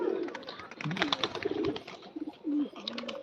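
Pigeons coo and call close by, several rising and falling calls overlapping in a busy stretch, with some scattered voices and background noise mixed in.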